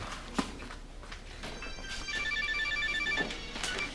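A telephone rings indoors before someone picks up, its electronic trill repeating in short bursts over the last half, with a thump and light movement noises before it starts.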